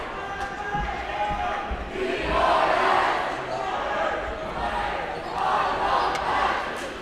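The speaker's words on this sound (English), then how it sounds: "hopefully you can hear the crowd" A high school boys' varsity basketball crowd roars indoors in swelling waves, a broad noisy wash of voices with faint ball bounces and court sounds underneath.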